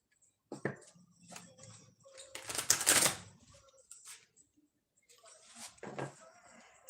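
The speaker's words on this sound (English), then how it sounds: "we'll shuffle the decks" Decks of cards being shuffled and handled, with irregular riffling bursts and taps, one long loud flurry in the middle, close and quiet with no voice.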